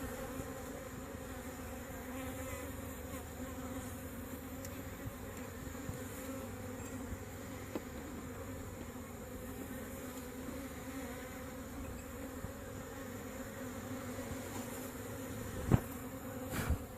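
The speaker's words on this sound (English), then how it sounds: "That is a good looking frame of bees." Honeybees buzz steadily around an opened hive during an outdoor hive check, a soft continuous hum with occasional louder passes near the end, no talking.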